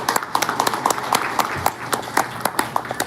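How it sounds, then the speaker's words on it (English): Scattered hand claps from a small group at a company meeting, sharp and uneven, forming a brief, thin round of applause. "So let's give our folks that's helping us out a round of applause."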